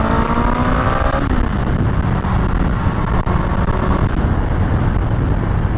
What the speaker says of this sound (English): let's go through the gears and the sound of the Honda Nighthawk